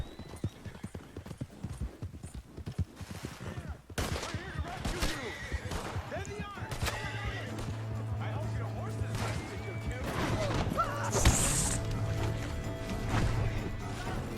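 Wild horses in a video game, with steady hoof clip-clop of galloping close by and a brief whinny, a low engine-like drone entering partway, and some game effects over the top.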